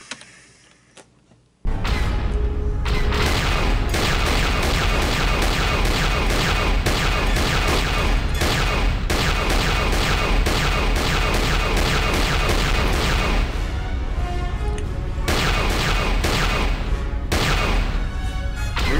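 Rapid, dense spaceship turret gunfire in Kotor II, a near-continuous barrage of blasts and booms that starts abruptly after a brief quiet opening and keeps pounding loudly for most of the stretch.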